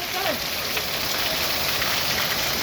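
Heavy cloudburst rain pours down in Purna taluka, Parbhani district, in a steady, unbroken roar that stays level throughout.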